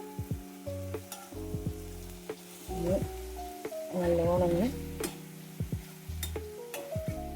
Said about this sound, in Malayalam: ഇളക്കുക